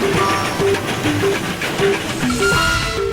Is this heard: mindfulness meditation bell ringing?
no